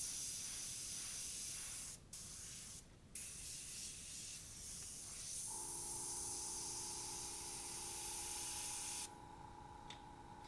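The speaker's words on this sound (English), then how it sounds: "using Illustration Black, I will spray around here," An airbrush spraying Illustration Black paint around a stencil, producing a steady airy hiss with brief pauses, then a continuing spray joined by a faint tonal whine from the compressor.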